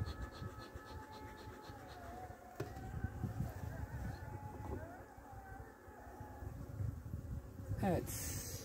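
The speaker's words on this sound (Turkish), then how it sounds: "erkek arı geziyor kovanın içinde" Honeybees, including drones, hum steadily inside a hive in midwinter, a dense continuous buzz with occasional clicks and knocks, close by.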